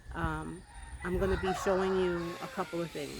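Roosters crowing in Puerto Rico, several drawn-out crows and clucks close by, loud and overlapping someone speaking.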